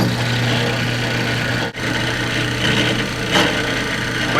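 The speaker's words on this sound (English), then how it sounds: "Lower the drill into the workpiece and begin pecking at" A drill press bit is lowered and pecks into a workpiece, giving a steady motor drone with faint rubbing cutting texture and a brief dip partway through, close by with no speech.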